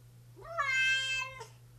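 A cat gives one loud, rising-and-falling meow up close just before a bath, heard alone against a low indoor hum.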